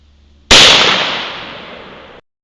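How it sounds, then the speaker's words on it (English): One sharp, loud .410 gauge shotgun blast fired at an anthill outdoors, with a sudden crack that fades away over about two seconds. "410 gauge, shooting the anthill."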